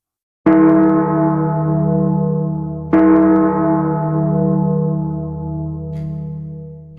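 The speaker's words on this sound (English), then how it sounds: "The bells were ringing wildly." Two big metallic strikes, roughly three seconds apart, each with a long ringing harmonic decay, like church bells tolling at midnight, loud and alone with no voices.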